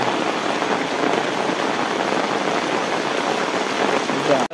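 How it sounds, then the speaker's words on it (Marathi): Heavy monsoon rain pours down steadily in a rural Maharashtra setting, a loud, dense, unbroken hiss of falling water lasting throughout and cutting off abruptly at the end. "26 तारखेला धुमाकूल असा पाऊस पडत आहे"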